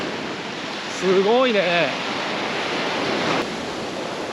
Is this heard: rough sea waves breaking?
yes